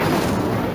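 The Incendio fire spell from Hogwarts Legacy, cast once as a short roaring whoosh of flame. It is loud and dense, fading away within a second.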